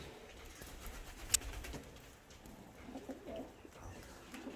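Fancy pigeons in a loft, including tail-fanning Rostov, Volsk and Ural breeds, coo faintly in the background, a quiet low murmur with one brief sharp click.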